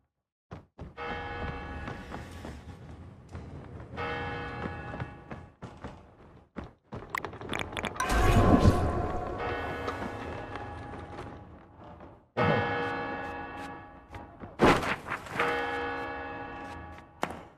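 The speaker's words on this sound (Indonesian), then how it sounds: "Itu bel-bel dari mana?" Bells ring in the video game Deceit 2, repeated resonant metallic clangs in several bursts, each decaying before the next, with some thuds between.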